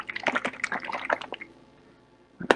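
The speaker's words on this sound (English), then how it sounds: "Pour some into glass." Thick, separated orgeat syrup is poured into a shot glass: a short, close series of soft liquid splashes and drips, then a brief click after a pause.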